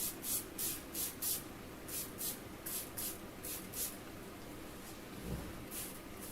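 Water sprayed onto clay in a series of short, soft hissing bursts from a spray bottle, about a dozen quick pumps in an uneven rhythm, close and quiet.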